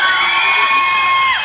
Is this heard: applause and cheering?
yes